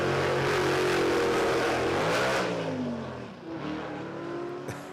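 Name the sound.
drag racing car engine free revving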